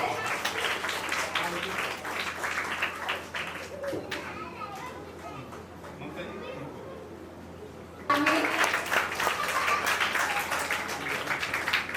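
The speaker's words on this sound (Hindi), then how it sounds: "एक जोरदार ताली हो जाए।" An audience at a literary society's anniversary event breaks into loud clapping. It opens with applause, settles into murmuring chatter and children's voices, then swells into another strong round of clapping.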